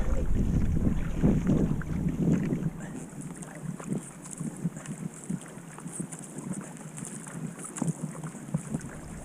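A surfski wing paddle takes short strokes through open water, with repeated splashing pulls and a steady rushing wash of water and wind noise outdoors, no voices.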